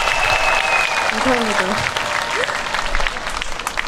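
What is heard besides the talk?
audience applause at outdoor concert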